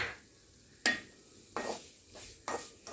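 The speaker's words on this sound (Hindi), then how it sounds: "ये देखिए, ये हम लोग भून रहे हैं" Besan is stirred and roasted with a spoon in a pan over a slow flame, with three separate scraping strokes spaced about a second apart over a faint background hiss.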